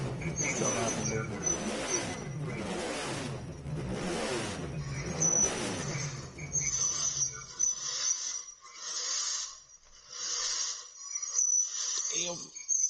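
Chevrolet Camaro engine in Gran Turismo 7 endurance racing, a steady mid-pitched drone that rises into rev bursts, with a high whine and voices talking over it throughout.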